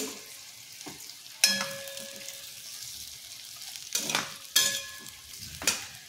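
Potato slices coated in turmeric and chili powder are stirred in a hot pan, with soft steady sizzling broken by several sharp scrapes and clinks of a spoon against the pan.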